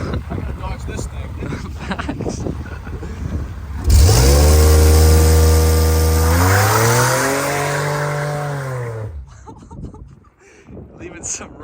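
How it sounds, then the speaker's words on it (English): A supercharged Monte Carlo roars as tires squeal loudly in a long burnout in a yard, the engine pitch rising and holding before cutting off, with voices around it. "Leaving some rubber in the yard."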